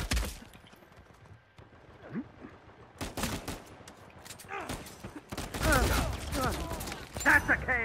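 Several bursts of blind-fire gunshots in Uncharted 4 multiplayer, some clustered into rapid volleys and set against game noise, with people talking over them.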